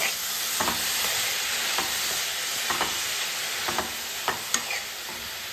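Steady close sizzle of mushrooms frying in a pan with onion and garlic, with occasional louder crackles and stirring clicks over a continuous hiss.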